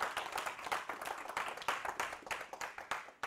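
A church congregation claps hands in a lively burst of overlapping irregular claps, fairly close and sustained, with no speech over it.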